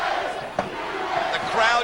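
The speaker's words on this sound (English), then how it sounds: "The crowd chanting USA." Wrestling crowd at an NWA TNA match chanting USA for Jim Duggan against Mike Sanders, a loud rhythmic arena chant with commentary talk layered over it.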